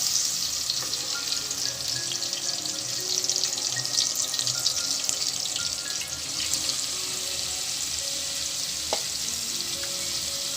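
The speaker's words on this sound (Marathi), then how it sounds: "आतमध्ये आपण तेल टाकलेलं आहे आणि आपण बनवलेली पेस्ट लसूण अद्रक आणि मिरचीची पेस्ट आहे" Garlic, ginger and green chili paste fries in hot oil with a steady, loud sizzle and crackle that runs for the whole stretch, and a few faint clinks come through near the pan. Nobody speaks.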